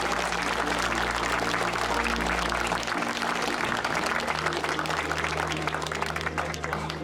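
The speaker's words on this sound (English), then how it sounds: "Let's all give a great big round of applause to Kath Beck." Audience applause at the East Anglian Railway Museum's Chappel 175 celebration, sustained clapping from a crowd over a low steady hum, continuous and fairly even throughout.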